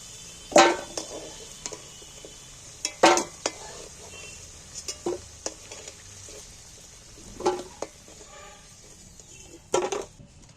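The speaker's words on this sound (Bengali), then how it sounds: "এইবার আলুগুলো আমি তেল থেকে তুলে নিচ্ছি" Metal utensil scraping and clinking against a pan in several separate strokes as fried potatoes are lifted out, over a faint background of hot oil bubbling.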